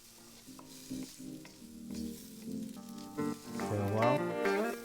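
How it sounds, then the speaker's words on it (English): Seafood noodles sizzle steadily in a hot pan as they are stir-fried, a soft crackling hiss beneath a person talking throughout. "Keep stir frying"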